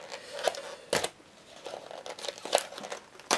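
A paper package of posters is unwrapped, giving close crinkling and tearing bursts in short irregular spurts with quieter rustling between them, and no one speaks.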